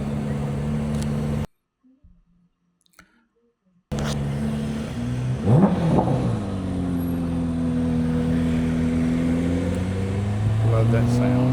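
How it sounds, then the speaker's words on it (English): A diesel-converted Porsche at a cars-and-coffee meet revs up, its engine note rising and falling in sweeping pulls after a short gap, loud and close, with people talking nearby. "this is actually a diesel Porsche"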